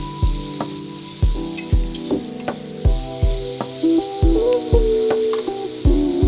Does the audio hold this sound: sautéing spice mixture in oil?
yes